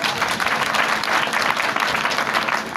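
A congregation claps together at a funeral send-off service, a dense burst of applause that fills the space for a few seconds without talk.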